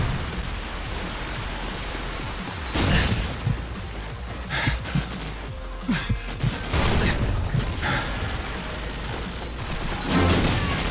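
Scattered gunshots in Call of Duty 4 Promod on PC, a multiplayer bombsite rush on the map Strike: several sharp bursts and single shots at irregular moments over steady game ambience, some close and others more distant.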